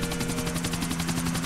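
A Buzzard attack helicopter in GTA IV: The Ballad of Gay Tony. Rotor blades chop in a fast, steady rhythm under a loud engine whine, continuous and close, with no talk.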